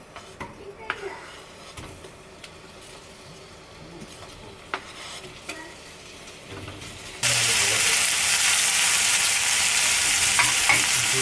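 Onions frying in a pan while being stirred for a tomato hayashi rice and golden curry dish, with soft scraping and clinks in the first part, then a loud, steady sizzle that takes over and holds to the end.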